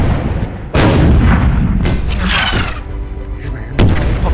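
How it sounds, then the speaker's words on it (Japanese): A Japanese artillery company fires in a war film battle scene, loud heavy booms landing in separate blasts, with rumbling echoes and distant crackle between the shots. "日本人的炮兵连队开炮。"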